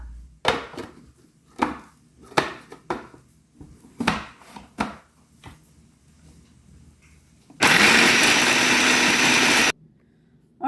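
Almonds, cashews, shredded coconut, cardamom, clove and a cinnamon stick in a food processor: a series of sharp knocks, then one loud, steady motor burst of about two seconds that cuts off abruptly.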